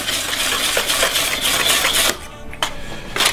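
Dry Spanish smoked paprika and spices are stirred into a flour coating for fish tacos, giving a rhythmic scraping and clinking of utensil against bowl, close up, with a brief pause near the end.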